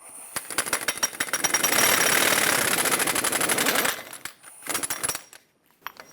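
Rapid rattling bursts of a power impact tool loosening the axle nut on a 2003-2009 Dodge Ram 2500 during lower ball joint replacement, loud and sustained for several seconds, then tapering into short spurts and silence.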